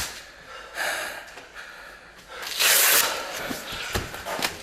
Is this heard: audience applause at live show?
no